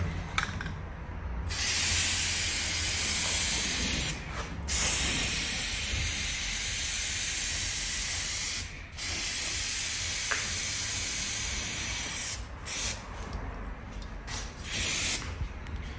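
Spray paint going on in a steady, even coat, heard as a loud continuous hiss broken by a few brief pauses between passes, close by and alone.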